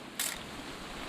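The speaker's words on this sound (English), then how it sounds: "Just want to get a shot of you, Dawn, then we can take off." A single quick camera shutter click snaps once over a steady background of rain-like hiss, in the game What Remains of Edith Finch.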